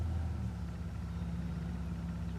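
A neighbor's car idling with no exhaust pipe, the rusted-out exhaust cut off with a Sawzall, giving a steady, loud, rumbling low drone that holds evenly throughout.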